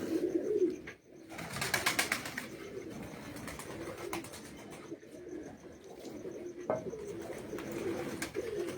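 Pigeons coo softly on a rooftop in Punjab amid faint chirps and a brief flutter of wings, with low, distant background noise throughout.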